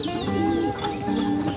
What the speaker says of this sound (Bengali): তো এখন কবুতরগুলোকে ছাড়বো।